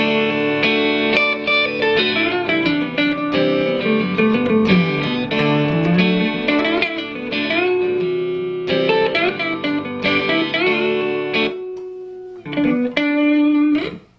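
Electric guitar plays a sweeter major pentatonic lead over a looped backing, with smooth bends and sustained melodic notes, close and steady, pausing briefly near the end before a final phrase.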